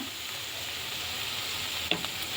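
Black-eyed peas with onions, coriander-cumin powder, chilli powder and turmeric being mixed in a pan, a steady soft sizzle with a brief scrape of the spoon near the end, no voices.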